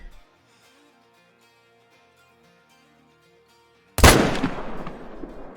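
A single loud M1 rifle shot fired at a bull in Call of the Wild, a sharp crack followed by a rolling echo that fades over a second, after near silence.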